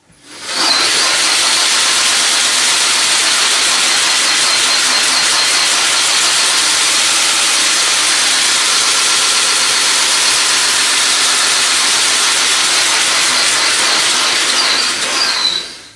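Electric vehicle conversion running on jack stands with its wheels spinning, giving a loud, steady whirring hiss with a grinding edge from new brakes that holds unbroken for about fifteen seconds after a quick rise.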